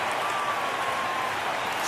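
A football stadium crowd at an Eagles–Bears night game roars steadily after a long run, a dense, sustained wash of cheering with a faint tone running underneath.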